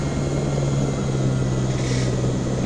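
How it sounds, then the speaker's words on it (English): A helicopter in the video game Jurassic Park: Operation Genesis gives a loud, steady rotor and engine drone with a constant low hum, close and unbroken throughout. "But we'll have some more fun with the helicopter"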